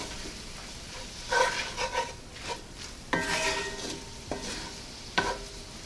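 A utensil scrapes and stirs spinach wilting in a hot pan for artichoke dip, with soft sizzling underneath and irregular clinks of metal against the pan, close up with no talk.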